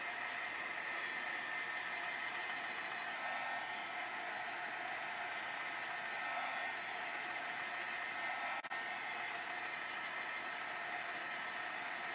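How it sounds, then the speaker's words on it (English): A heat tool blows steadily while drying watercolor paint on a card, a loud, continuous airy whoosh that holds constant for the whole stretch with only slight wavering and no talk over it. "we're going to use the heat tool, and I'm just going to dry this"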